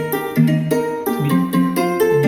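Plucked guitar and string lines from a soca track play melodic notes in a steady, lively rhythm, loud and clear with no voices.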